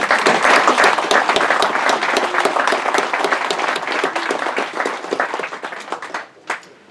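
Loud, dense applause from a lecture audience greets board members as they stand, then thins out and fades to a few last claps.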